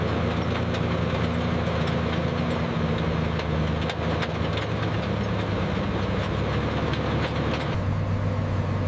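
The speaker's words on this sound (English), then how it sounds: "The roar of the radial engine signals completion." A Sherman tank's radial engine roars at the factory in a loud, continuous, heavy rumble that barely changes. Faint clanking sounds in the background.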